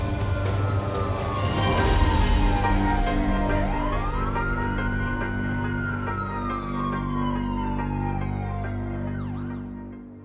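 An ambulance siren wails loudly and close, its pitch sweeping down and back up in long continuous cycles over steady engine and road noise, with no talk.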